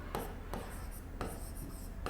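Marker or chalk writing on a board during a Hindi-medium mathematics lecture on sets: quiet scratching strokes broken by a few short taps, close by in a quiet room.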